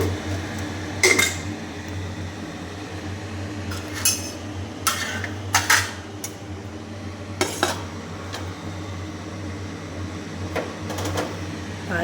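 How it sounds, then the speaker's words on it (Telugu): A cooking pan set on a stove while oil is poured in for Telugu-style nalleru (adamant creeper) chutney: several sharp metallic clanks and clinks of pan and utensils over a steady low hum, no talking. "ఇప్పుడు మళ్ళీ పెన్నం పెట్టి దీంట్లో ఇంకా కొంచెం ఆయిల్ వేసుకోవాలి."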